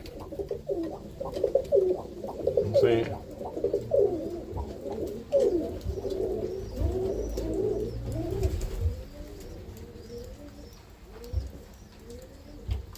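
Roller pigeons cooing inside a loft, a steady stream of soft, throaty coos from several birds close by, overlapping in rolling phrases, with a brief spoken remark in the middle.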